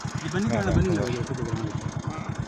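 A motorbike engine runs on a narrow rural track, a mid-pitched throbbing putter close by and fairly loud, with a person talking over it throughout.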